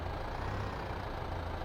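A small tractor engine idling in Farming Simulator 15, a steady low diesel rumble with a soft mechanical hum, even and unbroken at a moderate distance, with no talk over it.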